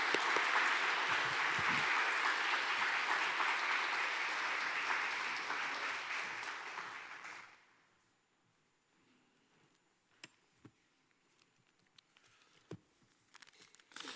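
A church congregation gives welcoming applause to a visiting missionary, loud, dense clapping for about seven seconds that fades out, leaving a quiet room with scattered small bumps and shuffles.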